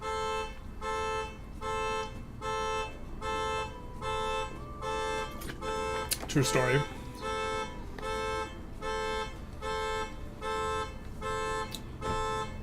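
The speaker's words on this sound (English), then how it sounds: "Everyone remembers when the Maya invented the car alarm." A car alarm in Civilization VII, a loud, repeating pulsed electronic tone cycling evenly throughout, with someone briefly talking over it midway.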